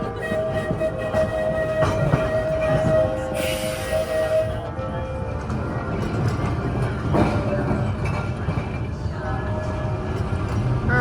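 A heritage open boat tram rolls along city rails during a transit heritage month, giving a continuous loud rumble with ringing metallic squeals and tones throughout, while riders' voices mix faintly underneath.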